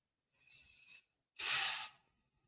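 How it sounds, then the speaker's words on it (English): A person takes a deep, cleansing breath, with a soft drawn-in inhale followed by a louder, longer exhale, close up and with no talk. "take a deep, cleansing breath with me"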